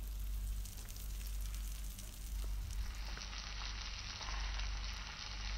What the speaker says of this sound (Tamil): இதே மாதிரியே 2 சைடும் நல்லா வேக வச்சுக்கோங்க.